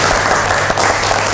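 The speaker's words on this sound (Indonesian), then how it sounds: "Gitu dong, tepuk tangan buat kalian." Dense, loud applause from an audience of children at a church gathering, a continuous wash of clapping filling the whole moment without pause.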